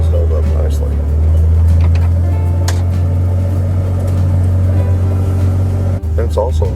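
A Kawasaki Mule utility vehicle with four-wheel drive rolls along a farm trail, its loud steady low engine drone continuous from inside the cab, with occasional rattles and a person talking over it.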